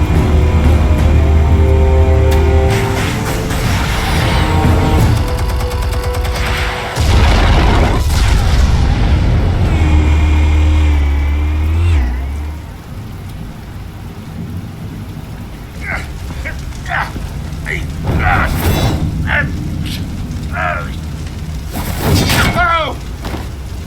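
Heavy booming detonations of explosives in the video game Batman: The Telltale Series, deep rumbling blasts in the first half fading into quieter debris and scattered impacts, with voices heard over the later part.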